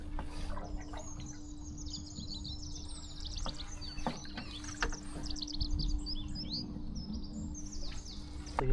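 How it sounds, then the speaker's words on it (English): Many birds chirp and sing along a river, bright overlapping calls in the near and middle distance over a steady low background hum. "There's a lot more bird song in this section, which is nice."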